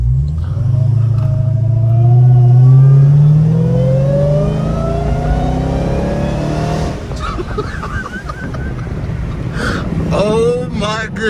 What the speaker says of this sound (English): First drive with the new JLT intake installed.